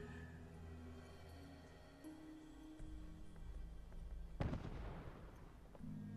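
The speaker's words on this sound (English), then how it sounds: "Those explosions are really disconcerting" Distant explosions in the game Fallout 4 rumble and crack over a steady low background drone, one heavier blast standing out before fading.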